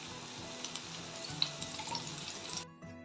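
Whole spices, cinnamon, cloves and cardamom, crackle and sizzle in hot ghee for a biryani, a close, continuous frying hiss with small pops before it cuts off abruptly near the end.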